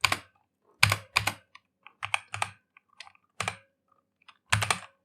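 Typing on a computer keyboard: short bursts of crisp, close key clicks separated by brief pauses, with no voices.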